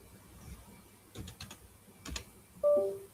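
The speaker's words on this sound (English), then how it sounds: "It's my keyboard. The keys are sticking." Several sharp, clustered key taps on a computer keyboard with sticking keys, close and moderately loud, in short bursts of two or three strokes followed by a brief louder knock near the end.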